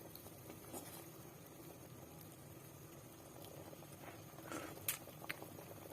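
A pot of noodles for kuay chap simmers quietly, with soft bubbling and occasional louder pops and splutters from the boiling water.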